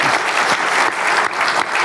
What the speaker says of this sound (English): Let's applaud again, okay?